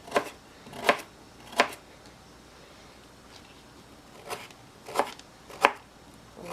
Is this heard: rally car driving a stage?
no